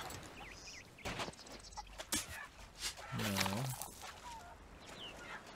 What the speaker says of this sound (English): I feel bad for these little birds.